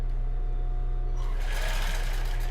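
Sewing machine running a small zigzag stitch while finishing a panty seam, a loud steady motor hum with a rapid rhythmic needle chatter that brightens partway through.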